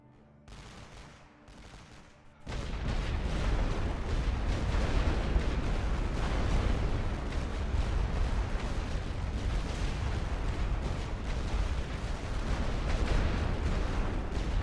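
Ordered artillery fire in The Great War: Western Front opens with a sudden loud onset, then a continuous rumbling barrage of shell blasts and gunfire rolls on at full volume without pause.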